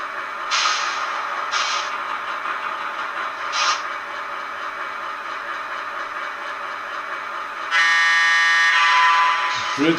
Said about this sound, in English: Good sound on the horn.